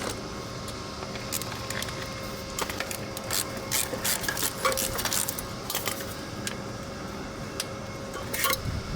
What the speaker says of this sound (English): Remove the muffler brackets. I'm using my universal socket,